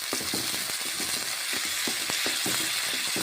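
Green peas frying in butter in a pan for a winter-morning pea toast, a steady crackling sizzle with repeated light clicks of stirring, close and continuous, no voices.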